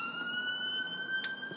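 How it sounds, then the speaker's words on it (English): A siren wails faintly in the distance, a steady high tone held behind quiet room ambience, with a brief sharp click near the end. "Siren."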